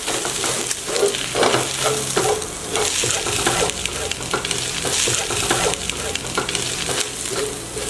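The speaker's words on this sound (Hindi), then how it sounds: "सबको अच्छी तरह मिक्स कर लेंगे।" Chicken and egg fried rice being stir-fried in a pan, with a steady loud sizzle and continuous scraping, tossing strokes close up, no talking.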